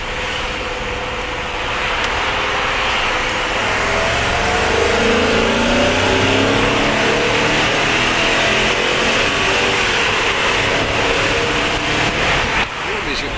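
Porsche 928 engine pulling steadily while driving, a sustained mid-pitched drone rising slightly with speed under road and cabin noise, with people talking over it.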